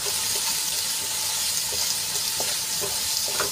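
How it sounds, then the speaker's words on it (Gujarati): Finely chopped onions sauté in hot oil in a pan, giving a steady, close sizzle with a few soft stirring knocks and no talking. "ડુંગળીને આપણે ગુલાબી રંગની થાય ત્યાં સુધી સાંતળી લેવાની છે"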